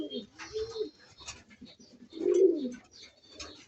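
Large pigeons coo in low, throaty, rolling calls, one near the start and a louder one in the middle, close by with faint background chatter between.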